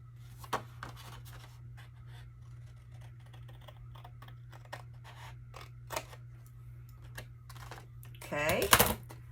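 Scissors cut through craft paper along score lines for a multi-pocket envelope, giving sparse snips and rustles over a steady low hum, ending in a louder burst of crinkling paper handling near the end.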